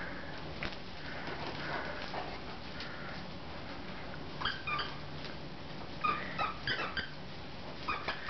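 Great Dane dogs play with squeaky toys indoors, with soft whimpers and sniffs, then several sharp, high squeaks and yips in quick bursts near the end, fairly close and quiet overall.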